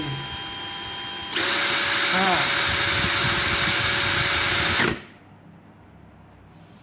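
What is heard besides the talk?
Makita DHP484 cordless drill running at different speed levels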